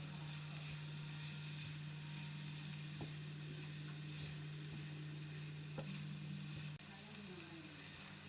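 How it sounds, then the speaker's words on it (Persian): Bell peppers and broccoli sautéing in a pan for a homemade mushroom and vegetable pizza, giving a faint, steady sizzle with a constant low hum beneath and a couple of soft stirring knocks. "فلفل‌های رنگی و بروکلی بود به اون اضافه میکنم. یه مقداری کمی تفت میدم."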